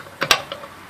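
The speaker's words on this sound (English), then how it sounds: "So we'll just access our tool kit here and take out our wrench." A metal wrench pulled from a vehicle tool kit during front brake work on a 2004 Nissan Armada. Two quick close clinks are followed by a fainter rattle, with no one talking.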